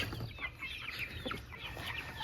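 Chickens cluck on a homestead in a run of short, choppy calls that overlap at close range, with a faint farmyard background and no talking.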